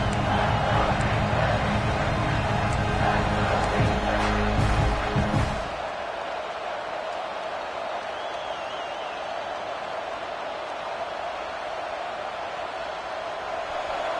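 Football stadium crowd at a USC versus Texas game roaring as the defense holds in the red zone, a dense, loud wall of cheering for about five seconds that then drops to a lower, distant murmur.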